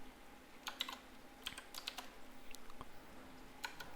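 Rapid clusters of keystrokes on a computer keyboard while typing code for a Raspberry Pi Pico W MQTT project, bursts of clicks separated by short pauses, close and fairly quiet.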